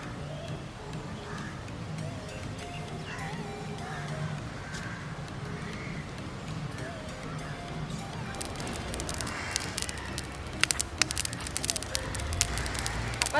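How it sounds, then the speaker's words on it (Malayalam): Charcoal fire burns in a windy outdoor spot ahead of grilling quail, a low rushing roar that builds into louder, sharper crackles and pops toward the end, with a voice talking over it. "അപ്പോൾ നമ്മൾ ഗ്രില്ല് ചെയ്യാനുള്ള തീ റെഡിയായി കഴിഞ്ഞിട്ടുണ്ട്"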